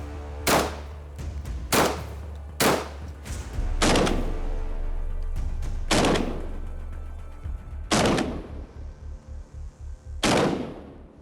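Seven loud shotgun blasts firing 28-gram shells, close and sharp, spaced a couple of seconds apart, each followed by a brief echoing tail, with no talking between them.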